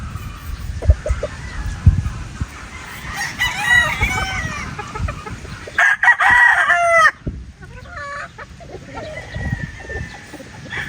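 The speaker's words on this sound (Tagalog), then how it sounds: "Ito po yung inyong brood stag." A brood stag game rooster crows loudly twice, each a strained drawn-out call, with scattered clucking and farmyard noise between the crows.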